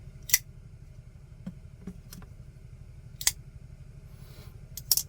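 A Benchmade Bugout folding knife blade flicks open and shut in a series of sharp, crisp clicks spaced irregularly over a low steady background hum, with the loudest snaps near the start and end.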